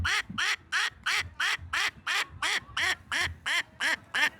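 A man imitates a duck with his voice, giving a fast, even run of about a dozen loud, nasal quacks, close up with no other sound between them.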